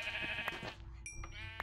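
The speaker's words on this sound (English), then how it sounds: "I see sheep." Sheep bleat in a video game with a witch and lava nearby, a couple of short wavering cries close up over a steady game-music bed.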